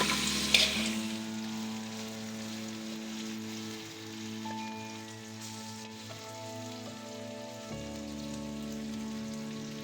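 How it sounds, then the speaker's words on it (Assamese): Mixed vegetables fry in oil with a soft, steady close sizzle, opening with a brief sharp splatter and then settling into a quieter even hiss with a faint hum beneath. "এনেকৈ মই গোটেইখিনি চব্জি ভাজি ল'ম"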